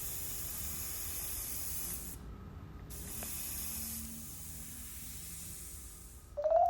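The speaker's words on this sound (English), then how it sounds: "with a dual action airbrush gun, you push down, the air goes, and then you slowly pull back on the trigger" A dual action airbrush gun sprays air and paint in a steady, close broadband hiss that runs for several seconds, breaks off briefly, then resumes. A sharper squeak of air comes at the very end.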